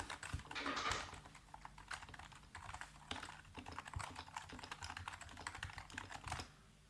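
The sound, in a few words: typing on a Leopold keyboard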